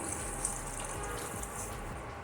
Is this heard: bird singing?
no